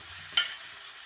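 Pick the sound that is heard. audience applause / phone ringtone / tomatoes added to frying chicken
tomatoes added to frying chicken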